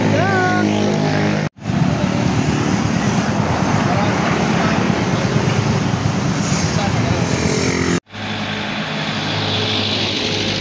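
Heavy holiday road traffic toward Quezon and Lucena with many motorcycles, a loud steady roar of passing vehicles and engine rumble recorded from within the flow, cut by two brief dropouts.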